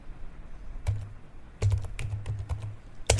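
A command is typed on a computer keyboard while fixing a Windows 11 Wi-Fi connection, heard as a few scattered clicks and then a quick irregular run of close keystrokes, with no talking.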